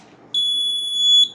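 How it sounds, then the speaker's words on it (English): A smart medicine box's electronic buzzer sounds once, a sharp, high, steady piercing beep lasting about a second. "Buzzer on."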